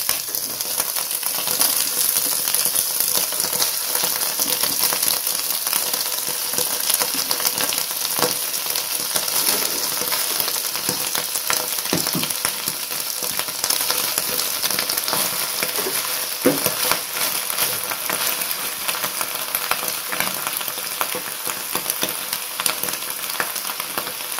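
Bok choy stir-fries in a pan for a dish with oyster sauce, giving a steady loud sizzle and hiss with occasional light scrapes and clinks from stirring, and no talking.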